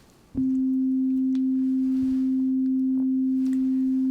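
After a brief quiet moment, a pure, steady sine tone from a Kurzweil K2700 synthesizer switches on and holds unchanging at constant loudness until the end.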